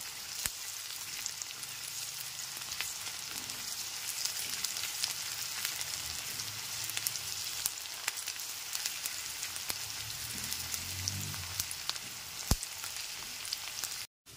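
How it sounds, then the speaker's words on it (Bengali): Chopped onions fry in oil over a low-to-medium gas flame while being stirred continuously, a steady broadband sizzle with soft scraping from the stirring, close by and with no talking. "পেঁয়াজ কুচিগুলোকে ক্রমাগত নেড়ে নেড়ে বেরেস্তা বানিয়ে নেব।"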